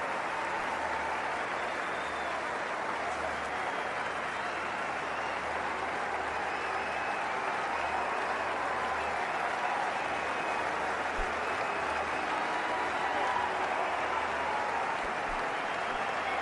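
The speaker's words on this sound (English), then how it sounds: "Great ovation from the Indian crowd." An Indian cricket crowd gives Virat Kohli a sustained ovation after his innings against South Africa, a dense, even wash of stadium applause and cheering that fills all sixteen seconds without letup.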